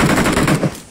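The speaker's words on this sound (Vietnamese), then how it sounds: "Ui, thằng ở bên kia nó bắn được." Rapid automatic gunfire from an enemy in a shooting video game rattles out in a fast burst of several loud, close shots, then trails off into quiet.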